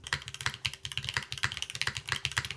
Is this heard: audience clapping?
no